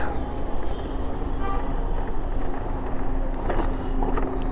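Heavy road traffic in a jam, heard from an Ather 450X electric scooter, with a steady broadband rumble of engines and short car horn toots poking through near the end.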